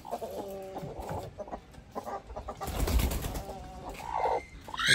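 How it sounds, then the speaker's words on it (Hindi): Several chickens cluck and squawk close by as they are let out of their coop one by one, with rustling and a brief flurry of wing flaps in the middle, no talking. "तो मुर्गियों को छोड़ते हैं, देखो आएंगे अब एक एक एक करके बाहर"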